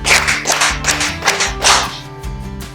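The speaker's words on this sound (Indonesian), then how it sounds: "Tepuk satu, tepuk dua, tepuk tiga, tepuk empat, tepuk lima" Sharp, close claps in a classroom rhythmic clapping exercise, several distinct bursts of hand claps in a patterned sequence over a low musical drone.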